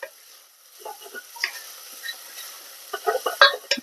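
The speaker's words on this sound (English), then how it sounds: "you want to add in your aromatics before these onions burn" Onions and garlic frying in a pan for fresh tomato pizza sauce, giving a steady low sizzle with scattered stirring scrapes and clicks that grow louder and busier toward the end.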